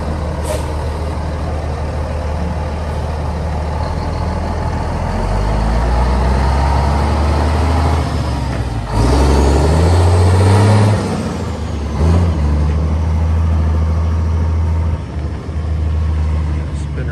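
A 1993 Mack RD600 truck driving forward and then in reverse, with a loud, steady diesel rumble throughout and a hiss of air near the middle.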